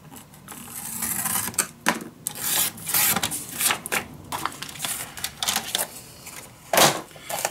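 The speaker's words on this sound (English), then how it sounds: "And then I'm gonna score and cut." Paper for a shabby chic mini album is scored and then cut by hand, giving irregular close scraping and rasping strokes with short pauses and small knocks between them.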